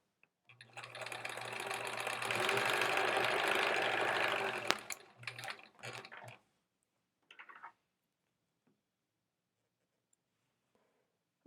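Sewing machine stitching quilt fabric pieces cut from an old shirt, a rapid whirring run of about four seconds followed by a few short bursts of stitching, then quiet.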